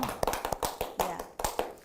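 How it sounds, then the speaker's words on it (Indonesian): A small group claps hands together at a training session on hand washing, giving a quick run of close, distinct claps in an irregular rhythm rather than a full crowd. "tepuk tangan buat kita semua"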